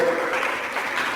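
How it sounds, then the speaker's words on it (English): Audience applause welcoming a speaker at a philosophy lecture in Nigeria, a steady dense wash of clapping from a large room, fairly loud and continuous, with no voices over it. "Please, with a standing applause to welcome"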